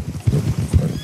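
Horse hooves clip-clopping in the video game Red Dead Redemption 2, two soft, close thuds about half a second apart over low ambient rumble.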